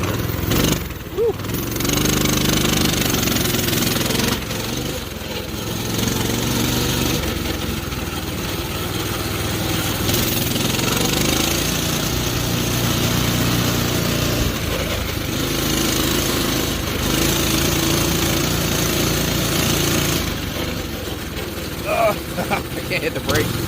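A Coleman CT200U-EX minibike engine runs steadily during a ride, a loud, continuous buzzing drone whose pitch rises and falls with the throttle for the whole stretch.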